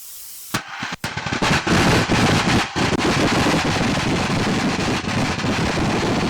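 A single-engine seaplane throttles up for a water takeoff, its engine building from a few sharp bursts into a loud, continuous roar, buffeted by wind noise on the microphone.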